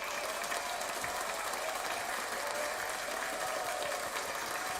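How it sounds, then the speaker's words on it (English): Long, sustained audience applause after a film-discussion show, thick continuous clapping from a room of people at an even level with no speech over it. "Really long applause."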